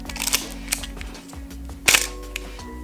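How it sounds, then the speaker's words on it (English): Canon AV-1 35mm film camera shutter firing, a few sharp mechanical clicks spaced apart over low background hum, close and fairly crisp. "the sound of this camera, it's really interesting."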